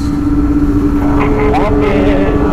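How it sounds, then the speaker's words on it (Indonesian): A loud Kawasaki ZX25R motorcycle exhaust on a highway group tour, heard as a constant engine drone close by, with people talking over it throughout. "Knalpotnya bacot banget, Ogin anjir"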